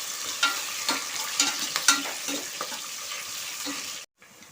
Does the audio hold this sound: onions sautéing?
yes